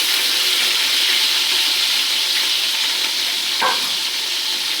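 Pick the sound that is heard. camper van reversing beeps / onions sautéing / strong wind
onions sautéing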